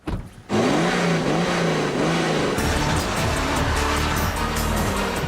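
A BMW 535d diesel and a petrol car accelerating hard side by side on a test track, loud engines revving up through gear changes with rising, falling pitch, close and continuous.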